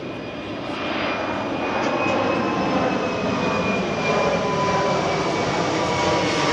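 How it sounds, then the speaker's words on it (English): A fixed-wing airplane passes overhead in Key West, its steady, broad engine drone rising slightly after the first second and holding loud and continuous throughout, with no talking. "there's a plane going overhead, or you can hear it"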